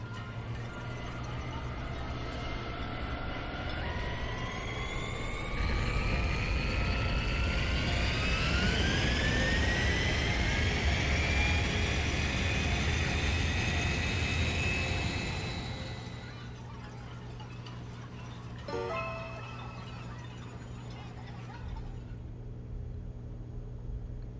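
An aircraft takes off in Digimon Story Time Stranger, with a steady engine drone that swells into a rising, whining roar at full power. It then drops back to a lower hum as the craft climbs away.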